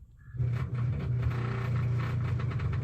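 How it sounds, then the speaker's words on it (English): Amana dishwasher main cycle pump running dry, starting abruptly into a loud, steady buzzing hum with a harsh rattling edge that holds until the end, close and with no talking. "the main dishwasher pump, like the cycle pump, running dry."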